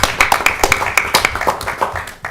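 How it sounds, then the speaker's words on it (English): Round of applause at a city council meeting, with a steady patter of claps running through the room for a couple of seconds. "So let's give a round of applause for our National Tourism Week."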